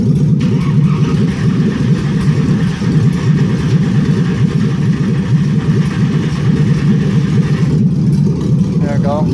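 Freshly installed 6.2L L99 V8 in a 1974 Chevy Nova runs at its first start-up with a loud, steady, rough engine drone that holds at an even level throughout, with people talking faintly nearby.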